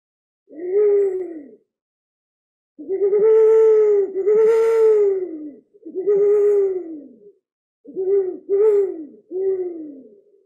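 A handheld bird caller instrument imitates bird calls, giving hollow, cooing hoots in separate bursts: one alone, then a run of three, a single hoot, and a quick closing cluster of three, each clear and close.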